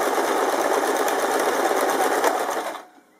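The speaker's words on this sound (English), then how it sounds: "a slight reverse stitch just to hold everything in place." Sewing machine running a short reverse stitch on bias binding with a bias binding foot, a loud, close, rapid even whirr that cuts off abruptly near the end, leaving near silence.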